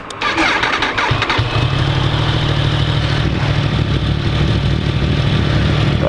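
A 2015 Yamaha R1 motorcycle engine cranks briefly and fires up loud and close, settling straight into a steady, rumbling idle that holds for several seconds.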